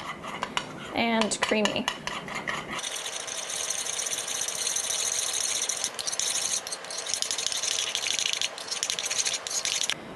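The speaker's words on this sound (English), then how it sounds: "we're gonna whisk this together, trying not to spill as much as you can, until it becomes very thick" A vinegar dressing being whisked in a bowl, steady fast metallic scraping and clinking of the whisk against the bowl, loud and continuous after a short spoken phrase at the start.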